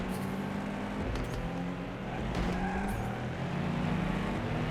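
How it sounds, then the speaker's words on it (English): A Subaru WRX rally car engine in a rallycross video game roars steadily with rising and falling revs and faint tire noise, continuous and fairly loud, no voices. "the Subaru actually does sound like a Subaru WRX"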